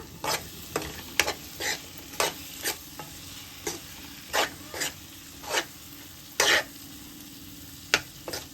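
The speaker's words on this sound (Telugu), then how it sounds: "మనం వేపుకొని పక్కన పెట్టుకున్న ఎండు చేపలు కూడా వేసుకొని కలుపుకోవాలి" Fried dried fish is stirred into a chilli-spiced gongura curry in a pan, with a soft sizzle beneath about a dozen sharp, evenly spaced spoon scrapes close up, no speech.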